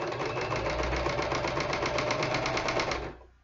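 A Kenmore sewing machine runs steadily at speed, a close, rapid mechanical chatter with a fast regular stitch rhythm for about three seconds before winding down.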